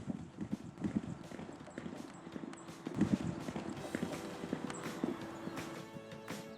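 Horse hooves clip-clopping at a racetrack, a close, uneven run of hoof thuds on the ground with some background noise and no talk.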